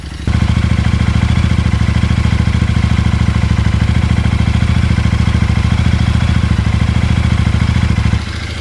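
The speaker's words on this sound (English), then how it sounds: "But luckily for now we have the bike running" A Royal Enfield Interceptor 650 twin runs at a steady, slightly high idle up close, a continuous loud rumbling putter with a faint mechanical clatter, cutting off near the end.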